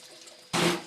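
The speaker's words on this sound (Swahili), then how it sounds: "Then I add some water." Water splashes into a cooking pot in a short, close pour for beef pilau, starting abruptly after quiet background hum.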